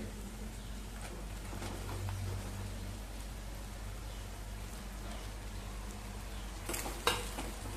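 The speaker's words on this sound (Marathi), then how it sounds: "आता आपण दोडका घालूया." Ridge gourd goes into a pan of hot oil and is stirred, giving a steady quiet sizzle with a low background hum. Brief clatters from the pan and spoon come near the end, and no one speaks.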